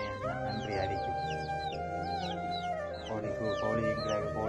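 Chickens kept in a basket cluck and squawk in repeated short calls, fairly close, with people talking underneath.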